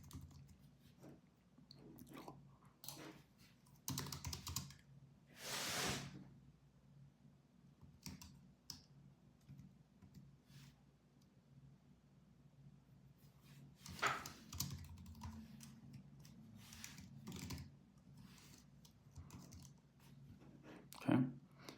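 Code being typed on a computer keyboard, with irregular bursts of close keystrokes separated by pauses and one longer stretch of rapid tapping.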